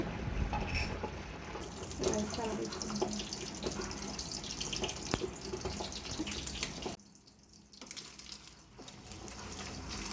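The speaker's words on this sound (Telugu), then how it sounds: "ఆయిల్ వేడెక్కిందండి ఇప్పుడు మిక్స్ చేసిన ఎగ్స్ వేసుకోవాలి" Beaten eggs are poured into hot oil over a medium flame for street-style egg fried rice, giving a close crackling sizzle with irregular spatters and a brief quieter dip.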